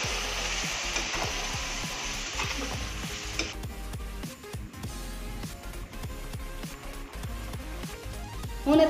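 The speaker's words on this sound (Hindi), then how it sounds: "हुण असी जो कटोरे विच मसाले मिक्स किए सी वह पावांगे कढ़ाई विच।" Spice mix with Kashmiri red chilli frying in a kadhai for Amritsari kulcha filling, with a steady loud sizzle and repeated scraping stirs of a spoon against the pan; the sizzle softens partway through as stirring continues.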